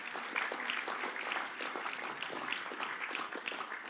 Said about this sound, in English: Let's give the Lord a clap offering as he has come forward this evening.